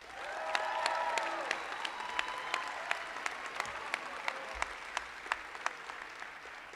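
Sustained applause from a large crowd at a La Salle commencement ceremony honoring award recipients, dense and steady with sharper individual claps standing out, and faint voices mixed in.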